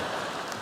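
A steady, even hiss of rain falling, soft and continuous with no voices.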